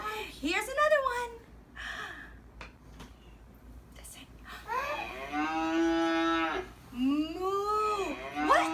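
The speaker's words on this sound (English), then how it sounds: "What animal says moo? The cow." A cow lows in long, drawn-out moos, with one sustained call in the middle and another rising call near the end, heard close and clear between bits of talk.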